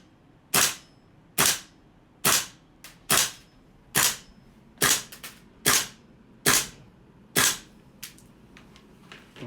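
A GHK AR airsoft rifle fitted with an RA-Tech magnetic-locking composite loading nozzle fires a string of about ten sharp, crisp shots at a steady, even pace, close and loud with quiet gaps between them.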